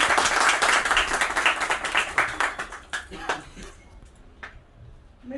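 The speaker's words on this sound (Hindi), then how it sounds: "जोरदार तालियां।" Loud applause from an audience at a business certificate ceremony, dense clapping that tapers off over several seconds with a few scattered claps near the end.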